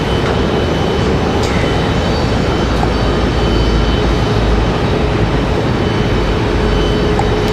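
A Republic Airways Embraer E175LR jet airliner at Raleigh Durham airport gives a loud, constant broadband jet roar, close and sustained, with a faint tonal whine running through it and no voices.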